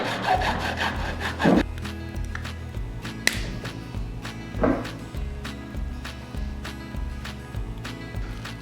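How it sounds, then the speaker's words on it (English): A hacksaw cuts through a broken fishing rod in steady back-and-forth strokes, a close rasping rhythm with a few louder scrapes and a sharp tap in between. "Remember that hacksaw I said you weren't going to need?"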